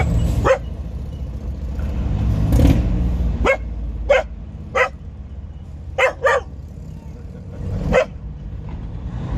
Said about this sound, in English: And even when he's barking, he's adorable.